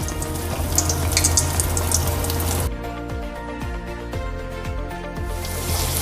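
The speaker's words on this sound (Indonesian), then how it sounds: "Sekarang kita mau goreng ya. Itu minyaknya sudah saya panasin, jadi tinggal masukkan, cemplungkan." Pieces of fukien fish tofu dropped into hot oil, a loud sputtering hiss that suddenly drops to a softer, steady bubbling sizzle, with no talk.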